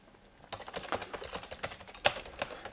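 Typing on a computer keyboard while entering text in Illustrator, a run of irregular light key clicks with one sharper, louder tap near the end, close and alone.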